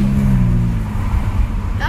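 A car drives past close by with a loud, steady engine roar that swells and holds, while people talk over it.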